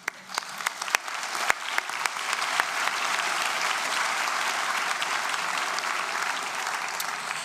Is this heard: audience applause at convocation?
yes